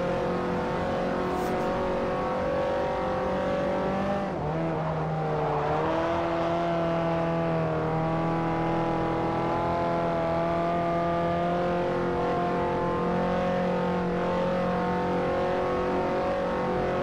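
An inline-four engine of a Ford Ka in Forza Motorsport 4 drones steadily for a long stretch, its pitch dipping and then climbing as the car accelerates, loud and continuous with no voices over it.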